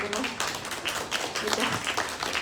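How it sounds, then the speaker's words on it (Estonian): A poetry evening audience at a Tartu bookstore claps in a light, scattered patter of applause, fairly close, with a voice speaking over the clapping. "Teeme ühe aplausi ka kõigile veel."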